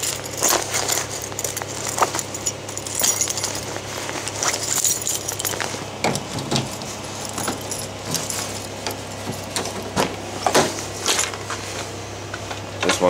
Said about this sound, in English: I'm going to put the keys in my pocket.